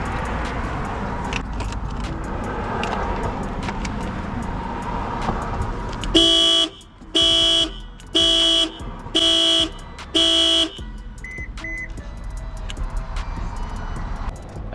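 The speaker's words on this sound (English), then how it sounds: "the alarm went off, so that means it's powering the car" A car alarm sounds when a jump starter is connected to the battery, with five loud, close horn-like blasts in a steady pulsing rhythm, followed by a couple of short chirps over an idling background.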